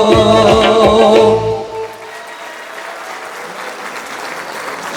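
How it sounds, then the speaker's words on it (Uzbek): Concert audience at a singer's 45-year anniversary evening breaks into loud applause as the music cuts off, clapping continuing on its own after the final chord. "Chiroyli qarsakinglar."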